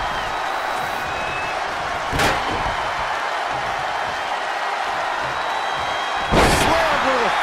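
Two heavy thuds from a wrestler slammed to the mat by a suplex during a televised tag team match, the impacts sharp and loud over constant arena crowd roar.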